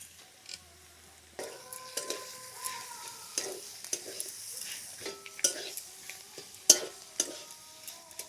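A spiced katla fish filling is stirred in a pan to dry out its moisture, with scraping spoon strokes and soft clinks over a low, steady sizzle, close and fairly quiet.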